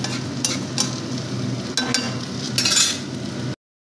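Tel jhal curry cooking in oil on the stove, a steady, close sizzle and bubble with a few sharp scrapes of a stirring spoon against the pot, ending abruptly.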